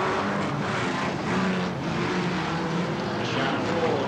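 Stock cars and caravans racing around a track, a loud continuous roar of engines with overlapping revs as cars pass, steady throughout with a commentator's voice faintly underneath.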